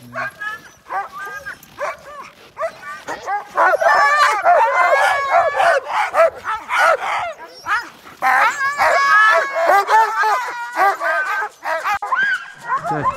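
Sled dogs on a dog sledding run in Telluride bark, yip and whine excitedly in a dense, overlapping chorus close by, with bursts of high yelps and brief lulls throughout.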